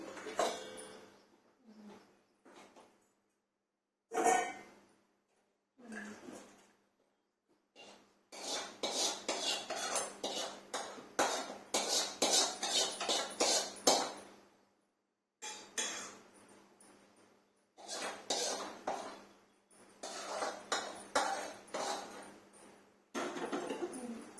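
Cooked egg curry is scooped from a pot into another bowl with a metal spoon, giving bursts of scraping, clinking and tapping separated by pauses, close and fairly clear.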